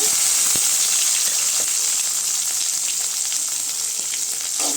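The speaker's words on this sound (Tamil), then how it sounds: "அடுத்து சின்ன வெங்காயம் கட் பண்ணி போட்டுக்கலாங்க" Shallots, cumin, dried chillies and curry leaves fry in hot oil with a loud, steady sizzle, close and continuous, with a few faint stirring clicks.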